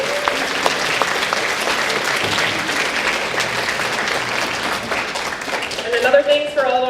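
An audience at a 2018 fifth-grade moving-up ceremony at a school breaks into sustained applause, many hands clapping loudly and continuously, with a voice rising over the crowd near the end.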